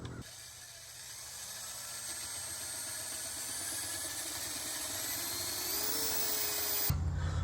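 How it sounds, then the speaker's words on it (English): A steady high whine of a power drill boring holes in wood runs continuously, close and moderately loud, ending abruptly near the end. "So I'm just going to stand up here and drill down."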